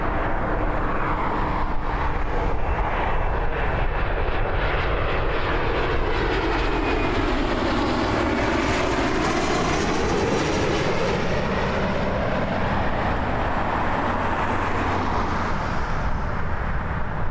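An airplane takes off at Toronto Pearson Airport, its engine roar swelling loud and steady, then rising and shifting in pitch as it passes and climbs away.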